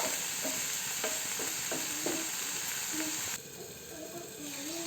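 Onions are stirred and sautéed in a pan, a close hissing sizzle with stirring scrapes that quietens partway through, while someone talks over it.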